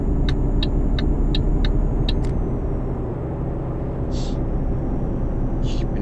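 A truck engine in Euro Truck Simulator drones as a loud, steady low rumble while driving, with a short run of light ticking clicks near the start and a couple of brief higher hisses later.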